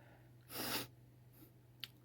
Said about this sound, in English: I had a sniffing moment